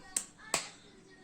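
Two crisp handclaps, quiet and near, spaced about a third of a second apart at home, with a faint room hush between them.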